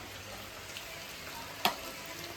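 KFC-style chicken frying crisp in oil gives a soft, steady sizzling hiss with one brief sharp pop near the end, quiet and without talk.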